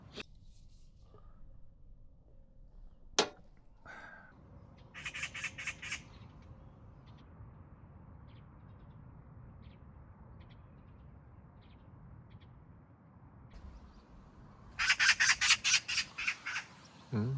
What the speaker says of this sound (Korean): 까치가 우리 엄마의 희소식을 전하는 건가?